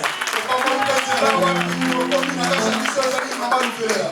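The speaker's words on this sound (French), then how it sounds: "Applaudissez encore très fort pour le couple de Maman Velela et de Papa Guillaume" A church congregation applauds a couple, steady clapping filling the room beneath someone talking over it throughout.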